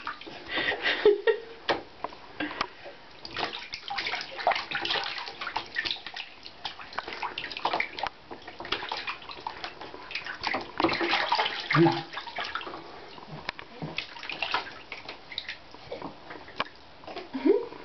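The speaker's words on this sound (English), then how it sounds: "Start splashing a little more?" Water splashing and sloshing in a bathtub as a baby splashes, irregular bursts of small splashes close by, with a faint voice now and then.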